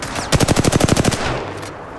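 A rapid burst of gunfire in the video game Revenant, about a dozen sharp shots in a quick even rhythm, loud and close, followed by a short fading tail.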